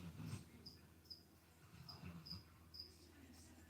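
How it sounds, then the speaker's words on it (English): A cricket loose indoors chirps in short, regular bursts, fairly close and steady over a low background hum with faint murmuring. "the cricket that escaped from my bearded dragon is still going"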